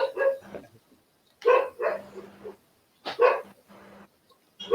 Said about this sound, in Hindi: कुत्ता हाँ सर, कुत्ता मेरा ही है।